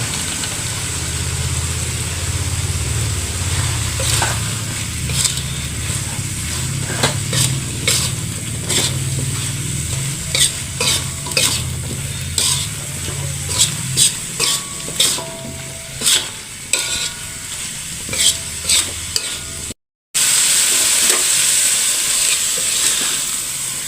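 Tofu sizzles steadily in a hot pan while a utensil scrapes and clacks against the metal in irregular stirring strokes, close and clear, with a brief cut near the end before the frying hiss resumes.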